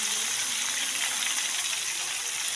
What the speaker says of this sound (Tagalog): Igigisa natin siya sa luya